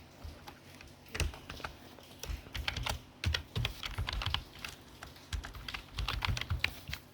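Typing on a computer keyboard while entering an HTML title tag, quick uneven clusters of close, crisp key clicks with short pauses between bursts.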